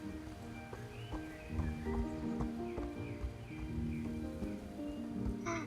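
A horse in the Star Stable video game trots with steady clip-clop hoofbeats over a layered musical and ambient game soundtrack, the footfalls fairly close and rhythmic throughout.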